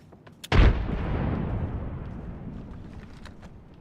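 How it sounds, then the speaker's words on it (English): A frag grenade detonates in the video game Apex Legends: a sharp, loud boom after a brief quiet moment, followed by a long rumbling decay that fades slowly over several seconds. "Throwing frag."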